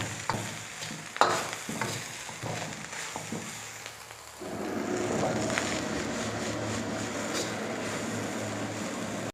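Boiled chicken is stir-fried in a pan for home-made fried rice: first a run of sharp spatula clanks and scrapes, then a sudden loud, steady sizzle that carries on close up beneath the occasional tap of the spatula.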